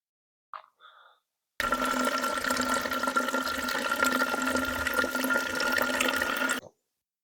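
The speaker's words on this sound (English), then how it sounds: "looks like the water's boiling." A steady, loud rush of churning water boiling in a pot at a backpacking campsite runs for about five seconds after a couple of brief knocks, then stops abruptly.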